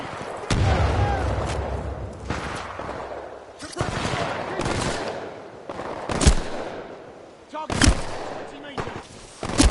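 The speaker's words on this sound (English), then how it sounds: "Grenade." Titanfall 2 combat: a grenade blast mixed into a run of loud, sharp gunfire cracks and booms that hit at irregular intervals, close and punchy over a rumbling battle background.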